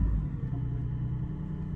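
A Porsche 718 Cayman GT4 with a manual gearbox, started with an ignition key, settles into a deep, steady engine rumble that is loud and close and heard alone.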